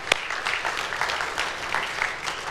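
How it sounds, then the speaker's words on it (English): Audience applause for a couple being honored at a community gathering, a steady wash of many hands clapping close and moderately loud, with one sharp clap near the start. "I think we need to clap for Robin and Virginia Edwards."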